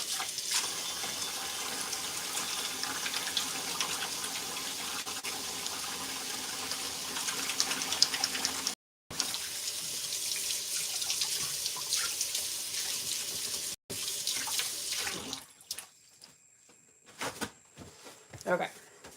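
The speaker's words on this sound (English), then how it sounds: "I'm gonna wash my hands again." Hands are washed under a running sink tap, a steady splashing rush of water with two brief cutouts that tapers off into quieter drips and handling sounds near the end.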